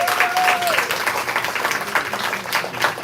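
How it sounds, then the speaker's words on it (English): An open mic poetry audience applauds in tribute to the late poet Nikki Giovanni, with steady, dense clapping throughout and a brief tone near the start. "Please give her a round of applause."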